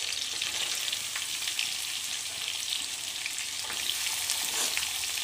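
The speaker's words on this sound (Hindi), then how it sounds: "अच्छे से प्याज को भून लेंगे हम लोग।" Onions fry in a pan after peanuts and green chillies, giving a dense, steady close-up sizzle with occasional stirring scrapes, no talking.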